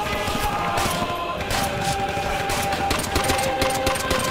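Continuous machine-gun fire rattles in Call of Duty: World at War, a dense, steady stream of rapid shots at constant loudness for the whole stretch, with no talk.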